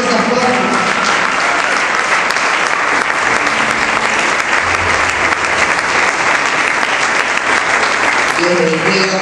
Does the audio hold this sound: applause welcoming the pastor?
yes